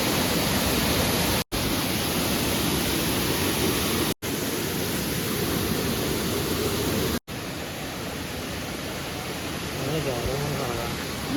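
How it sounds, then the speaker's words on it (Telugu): Kothapalli waterfall near Vanjangi, Paderu in Andhra Pradesh, roars in a steady, loud broadband rush of falling water that runs unbroken apart from three brief dropouts. "చూస్తున్నారుగా ఎంత ప్రశాంతంగా ఉందో ఆ వాటర్ ఫాల్స్ సౌండ్స్,"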